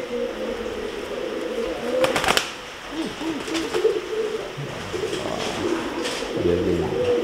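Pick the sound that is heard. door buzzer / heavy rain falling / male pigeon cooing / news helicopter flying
male pigeon cooing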